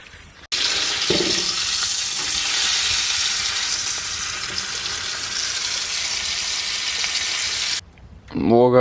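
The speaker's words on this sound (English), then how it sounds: "And it's time to cook the steak." Steak frying on a camp stove at a bushcraft camp after dark: a loud, steady close sizzle starts abruptly and holds for several seconds, then cuts off, followed by a short clatter.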